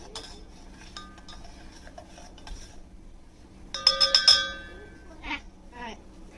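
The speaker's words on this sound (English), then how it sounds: "Take the spoon and mix it once." A spoon stirring Dubai chai in a cup, with light clinks early on and then a quick burst of bright metallic rings against the cup, followed by a voice.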